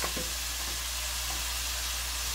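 Shrimp sizzling in a pan for shrimp fried rice, a steady loud hiss of frying oil with a couple of faint clicks at the start and no talk.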